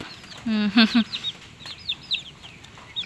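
A chicken clucks a few short notes close by, followed by faint scattered chirps of smaller birds in a quiet outdoor setting.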